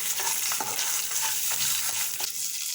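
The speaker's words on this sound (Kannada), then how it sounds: "ಇದನ್ನೆಲ್ಲ ಹಾಕಿ ಡೀಪ್ ಫ್ರೈ ಮಾಡ್ಕೊಳ್ಳೋಣ" Byadagi chilies, ginger, garlic and onions deep frying in hot oil, giving a steady loud sizzle with occasional stirring clinks and scrapes and no voices.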